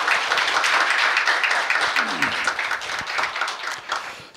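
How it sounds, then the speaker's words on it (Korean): A large audience applauds to welcome a speaker at a history lecture, a dense continuous clapping that holds steady for several seconds and then slowly thins out toward the end. "박찬하 의장님을 큰 박수로 맞이해 주시기 바랍니다"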